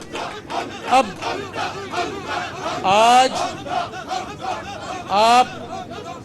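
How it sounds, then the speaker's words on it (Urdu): A crowd at an Eid public gathering shouts slogans in loud, rhythmic bursts, with a speaker's voice between the chants and a few sharp collective yells standing out. "آپ نے بڑے نعرے لگائے"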